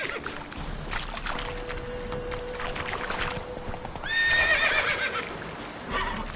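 Roach, the horse from The Witcher video game, gives a loud, quavering neigh midway through while hooves trot beneath, with a sustained tone and splashy water-like sounds in the background.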